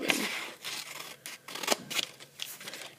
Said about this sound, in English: So I'm going to take my paper now, open up my scissors all the way, and I'm really taking my time